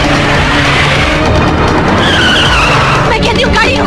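In an action-film chase scene, a car speeds and skids with loud, continuous engine roar and tire noise, and voices are mixed into the din.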